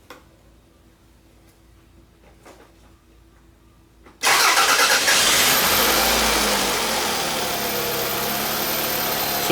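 A Toyota Highlander with a lean condition and a misfire cranks and fires abruptly after a quiet stretch, settling into a loud, steady idle up close; faint ticking precedes the start.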